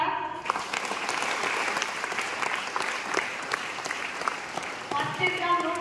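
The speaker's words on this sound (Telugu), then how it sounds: "ఒక్కసారి క్లాప్ ఇస్తారా?" A large audience at a Vestige leader training event in Ramayampet breaks into steady, dense applause that fills the hall, with a voice speaking over the clapping near the end.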